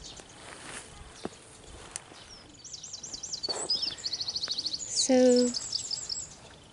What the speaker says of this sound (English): the birds are very happy and almost noisy